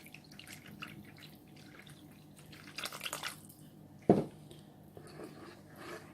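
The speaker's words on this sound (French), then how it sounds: "Dans le restant de la sauce, on rajoute un peu d'eau." Water poured into leftover stuffed-cabbage sauce in a pot, soft liquid trickles and a brief louder splash midway, close and fairly quiet without talk.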